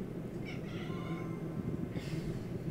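A male house cat gives two short, plaintive meows, faint and somewhat distant, over a steady background hum.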